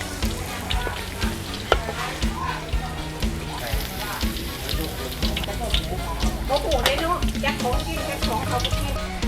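Pork cartilage deep-frying in a pan of hot oil makes a loud, dense, continuous crackle and bubbling sizzle, with a voice talking underneath.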